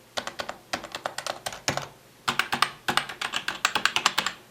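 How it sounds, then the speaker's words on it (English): Key presses on an HHKB Pro Hybrid Type S keyboard, Snow Edition, with no silencers fitted: close, crisp bursts of typing in quick rhythmic runs, broken by short pauses, with no voices. "you can probably be able to hear how different the key presses sound"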